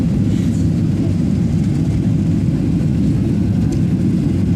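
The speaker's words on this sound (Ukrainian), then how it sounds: "А далі літак набирає ще скорість" Steady, loud, broadband jet roar fills the cabin of an airliner on a flight home from Morocco, a continuous low rumble with no talk and no clear rise or fall.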